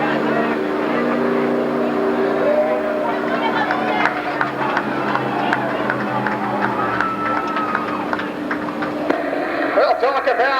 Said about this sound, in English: The number 1 car rolling down the home straightaway